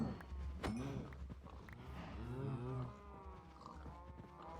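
Cows in Minecraft let out several drawn-out moos, overlapping and close, with some light background clatter.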